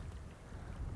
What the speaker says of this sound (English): that is rain, and I'm starting to feel some drops